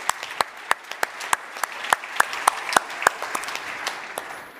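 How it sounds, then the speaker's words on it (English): Sparse clapping from a small audience at a corporate awards ceremony, individual hand claps distinct and irregular, fairly close and moderately loud, with no talk over them. "Big round of applause"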